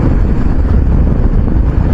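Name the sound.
strong wind on the Malshej Ghat mountain pass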